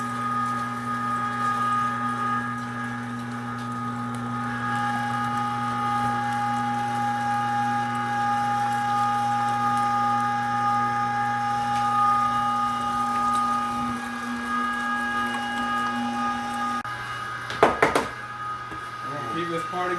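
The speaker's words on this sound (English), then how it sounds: "we're grinding up all the deer meat now" A meat grinder runs continuously as it grinds venison for snack sticks, giving a steady, even motor hum, with a brief clatter near the end.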